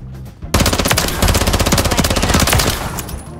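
Rapid submachine gun fire in a first-person shooter: a dense, loud, sustained burst of gunshots that runs nearly three seconds after a brief quiet lead-in, with no talking.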